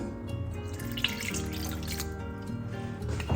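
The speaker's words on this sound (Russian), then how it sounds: "Наливаю сюда воду" Water runs steadily into a bowl for sourdough bread dough, with small splashes, a continuous trickling flow lasting a few seconds without voices.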